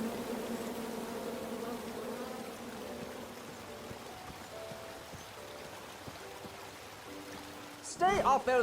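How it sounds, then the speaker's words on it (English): Angry bees swarm from a tree in the King's Quest adventure game, a steady insect buzz droning under spoken dialogue before a sudden louder burst near the end. "And then you chop down the tree full of angry bees?"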